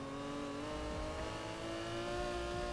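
An Aston Martin DB5 engine revs hard as the car slides through a turn in the racing game Need for Speed Heat, a loud, continuous engine drone with faint tire noise and no talk.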